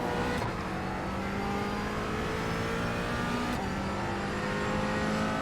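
Race car engine in iRacing at the Red Bull Ring GT4 event, with a Porsche passing in the same class: a loud, steady in-car engine drone with gear changes, continuous throughout.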